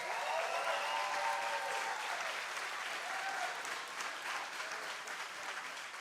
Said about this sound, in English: One more round of applause for our competitors up there.